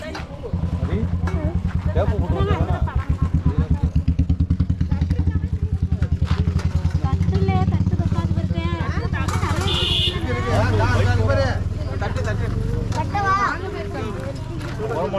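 A passing motorcycle engine drones loudly and steadily nearby, with rhythmic low pulsing and clattering, while voices chatter in the background at a family puberty ceremony gathering.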